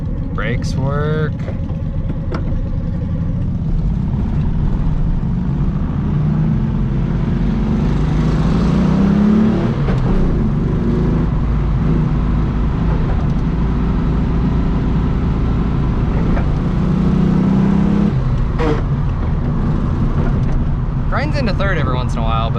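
A Volkswagen Bug drives along with a steady, close engine drone and road rumble that rises and dips slightly, while a person talks over it throughout.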